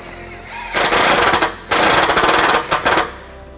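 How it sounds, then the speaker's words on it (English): A power driver with a 1/4 inch socket drives a self-tapping screw into a 2017 Jeep Wrangler JK frame, giving two loud buzzing bursts followed by a few short stuttering pulses, close and with no talk. "We're going to use a provided self-tapping screw and a 1/4 inch socket"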